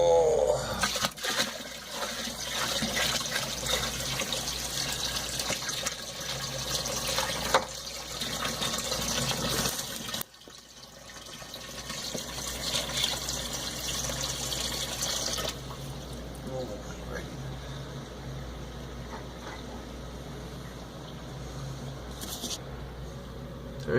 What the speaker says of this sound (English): So I'm just going to keep on adding water.